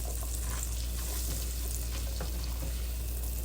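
Onion frying in a pan gives a steady, dense sizzle that holds even and continuous throughout, close up and fairly loud.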